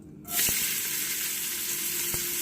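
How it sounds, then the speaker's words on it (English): Onions, about a cup of chopped onion with a pinch of kosher salt, hit a hot pot and start sizzling, a sudden burst of steady frying hiss that stays close and continuous, with a couple of faint knocks. "I'm just going to sweat these onions out until they get a little bit brown."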